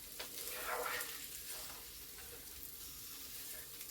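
Eggs scramble in a hot pan alongside sausage and potato in a breakfast stir-fry, a steady close sizzle and crackle with occasional scraping stirs, kept at a low, even level throughout.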